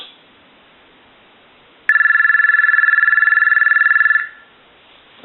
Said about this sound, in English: So we'll go ahead and ring the telephone right now.